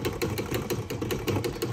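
A small engine whirs steadily on a dynamometer, spinning a stator disc, with a fast, even rhythmic pulsing and a mechanical hum close by.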